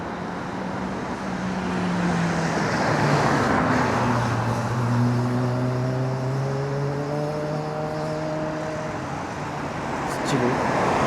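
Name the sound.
car traffic on a street, a Porsche passing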